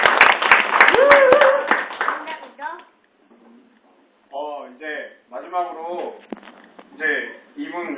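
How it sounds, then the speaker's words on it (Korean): Church Christmas Eve audience clapping briefly and loudly at the start, then fading out as someone speaks with laughter and chatter around him. "성창모 청년에게 박수 한번 쳐주시기 바랍니다"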